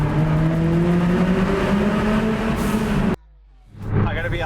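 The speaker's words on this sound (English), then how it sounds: "You can hear a lot more of the turbo." A Toyota MR2 Turbo runs with a steady droning exhaust note under load, then the revs cut abruptly into near silence before a brief hissy turbo blow-off and the engine picking back up.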